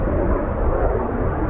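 A Eurofighter Typhoon jet doing a touch-and-go at RAF Coningsby, a steady broad roar throughout, fairly loud and with no talk.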